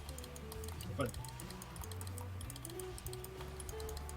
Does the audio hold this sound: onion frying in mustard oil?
no